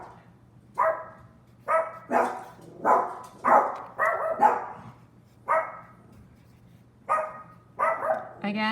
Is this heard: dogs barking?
yes